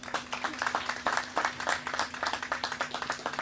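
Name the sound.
audience applause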